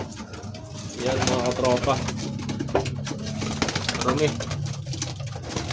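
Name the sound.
racing pigeons cooing in a loft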